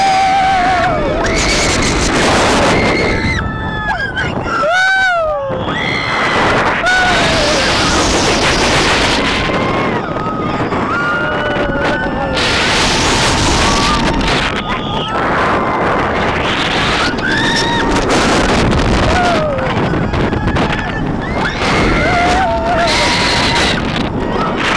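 Riders aboard the Hangtime roller coaster at Knott's Berry Farm scream and whoop over a loud, continuous roar of rushing wind, with rising and falling yells throughout the run.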